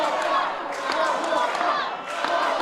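A wrestling crowd at a UK pro wrestling show cheers and roars steadily, a dense, loud wall of voices with scattered shouts and no pauses.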